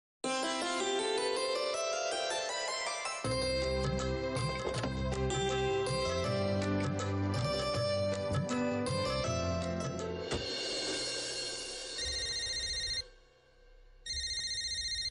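A phone ringtone plays loudly and continuously, a bright, melodic electronic jingle that repeats, then cuts briefly near the end before chiming again.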